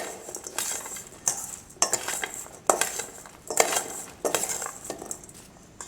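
Chopped onion and pimentos are stirred in a bowl with a utensil, giving repeated scraping, clinking strokes in a steady rhythm, close and fairly quiet, with no voices.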